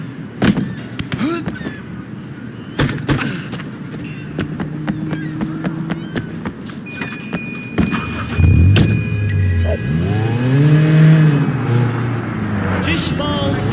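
Engines of cars revving and accelerating during a street race in the open-world game Sleeping Dogs, rising and falling in pitch over steady background noise, with brief speech mixed in.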